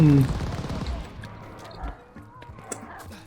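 Gunfire from the Type 100 submachine gun in Call of Duty: Vanguard, a short burst of sharp shots up front followed by scattered fainter pops and impacts, with a voice talking over the opening.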